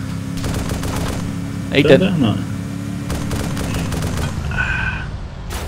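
Gunfire from a sniper battle in a video game, with bursts of rapid shots and a louder blast near two seconds, mixed under a steady engine-like drone while people talk throughout.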